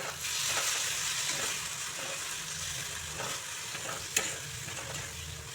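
Chopped tomatoes and poppy seed paste sizzle and fry in a pan for Bengali potato curry, a steady close hiss with stirring scrapes throughout and no talking.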